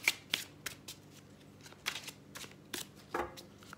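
Oracle cards are shuffled and cut by hand, giving a series of crisp riffling bursts and slaps in uneven rhythm, close and clear with no talk.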